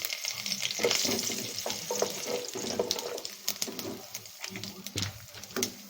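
Mustard seeds crackle and pop in hot oil alongside urad dal and curry leaves in a home kitchen, a busy irregular sizzle with frequent sharp pops and some stirring, close and fairly loud.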